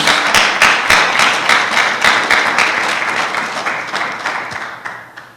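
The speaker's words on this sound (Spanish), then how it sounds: "Denle un aplauso fuerte al Rey de la Gloria" Loud, close applause from a church congregation during a Sunday service, dense at first with sharp individual claps, then gradually fading.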